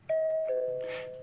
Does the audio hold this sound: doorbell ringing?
yes